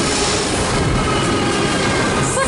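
A train hauled by locomotives, NR60 among them, rumbles past Asquith station in Sydney with a loud, continuous roar and faint wheel clatter.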